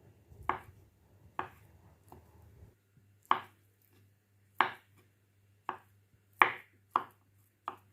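Cooled boiled potatoes are chopped with a knife on a board, about nine crisp, separate knocks at an uneven pace, close and clear over a faint low hum, with no talking.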